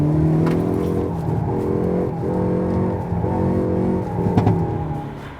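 2019 Hyundai Veloster N engine pulling hard under acceleration, a loud, close, throaty drone that holds steady and swells slightly, with a few crackles near the end.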